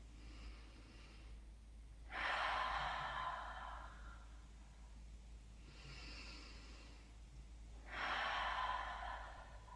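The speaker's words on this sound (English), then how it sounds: "Take 2 inhales and open mouth exhales here." Two slow rounds of yoga breathing: a quiet inhale followed by a long, audible open-mouth exhale, breathy and close, each exhale swelling then fading over a couple of seconds, with calm pauses between.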